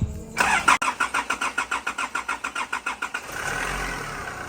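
The starter of a Nissan Navara pickup cranks in a fast, even rhythm of about twenty turns. The engine then catches and settles into a steady, close idle.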